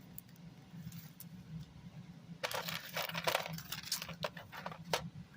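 Small metal buttons pulled from a dumpster clink and rattle as a hand sorts through them, a quiet run of light ticks and taps over a low steady hum.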